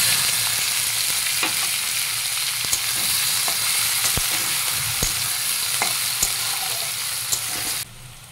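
Chopped onions hit hot oil left over from frying potatoes, already tempered with whole cumin and whole garam masala for mutton kosha, giving a steady, close sizzle with occasional sharp crackles and stirring clicks, no voices.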